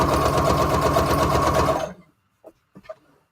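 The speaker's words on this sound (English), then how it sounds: "let's just do a straight stitch" A sewing machine runs a long straight stitch, loud and steady with a fast even needle rhythm for about two seconds, then stops; a few faint clicks follow in near silence.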